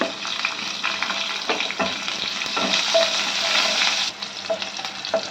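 Green chillies frying in hot oil with mustard seeds and cumin for a chapathi fry, giving a loud, steady broadband sizzle with occasional crackles and stirring scrapes throughout.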